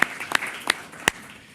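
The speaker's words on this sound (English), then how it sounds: "A round of applause." A small round of applause at a government commission meeting, four separate sharp claps standing out over faint scattered clapping that fades away at the end.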